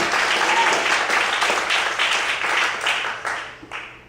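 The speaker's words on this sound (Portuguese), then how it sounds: "Vamos para glorificar e aplaudir ao Senhor nessa noite." A church congregation applauds during an evening service, steady dense clapping that fades toward the end.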